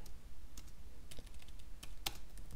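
Computer keyboard keys tapped as commands are typed, a sparse run of light clicks and a few sharper strokes, close and clear with no voices.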